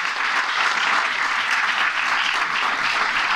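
Dense, steady applause from an audience at a children's rights and shared custody talk in Alcobendas, a continuous close wash of many hands clapping at even loudness throughout.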